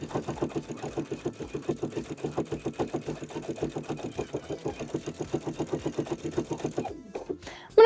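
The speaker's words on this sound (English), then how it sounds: "now I'm going to follow that chalk line all the way down" A sewing machine stitching the fly front of jeans along a chalk line, a steady fast rhythmic whir-clatter running evenly for about seven seconds, close and moderately loud, then stopping abruptly with a short knock at the end.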